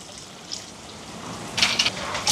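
Second and third pressings of coconut milk pour into a cooking pot for coconut milk rice, a soft liquid splash swelling into louder gushing bursts near the end, with no speech.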